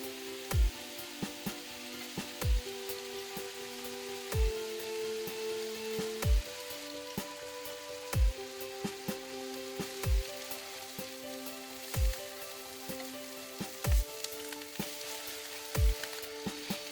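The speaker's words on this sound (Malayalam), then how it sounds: "ഇനി സ്റ്റൗ ലോ ടു മീഡിയം ഫ്ലെയിമിൽ വെച്ച് മീനെല്ലാം ഒന്ന് മൊരിച്ചെടുക്കാം" Sardines fry in coconut oil in a pan over a low to medium flame, with a steady soft sizzle and crackle throughout, accompanied by regular dull thumps about every two seconds and faint tonal hum lines.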